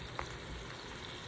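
Broken-up hamburger meat fries in a frying pan with a soft, steady sizzle, faint and continuous, with one small click near the start.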